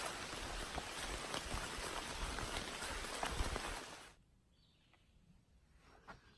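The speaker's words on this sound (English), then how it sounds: "I think the rain, hopefully, if the forecast is right, is going to stop here in a couple hours" Steady rain falls hard on a trail tent site for about four seconds, a loud dense hiss that then cuts away to a much quieter patch with only scattered drips.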